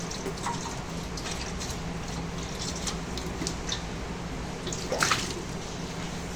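Water runs and drips over a baking pan in a home kitchen while pudding is being made, a steady wet trickle with scattered splashy drips and one louder splash near the end, no talk.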